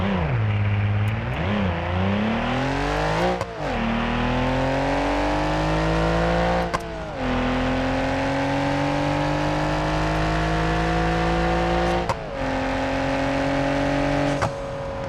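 A DeLorean converted into a drag car revs hard in BeamNG.Drive, its loud engine note rising in long sweeping pulls, broken by brief cuts between gear changes across the run.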